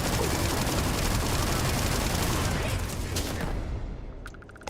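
A weapon firing explosive rounds in the video game Starfield makes a dense, continuous roar of rapid blasts that thins out near the end, with a voice faintly mixed in.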